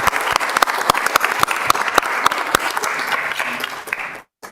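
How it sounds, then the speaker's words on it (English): Applause at a city council meeting honoring someone's service: dense crowd clapping with sharp individual claps standing out, loud and sustained, then cutting off abruptly near the end. "A big round of applause for your service."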